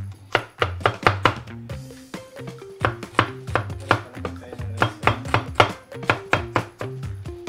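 A knife chops an onion on a board in quick, regular strokes, with brief pauses between bursts of sharp, close, fairly loud cuts and no talking.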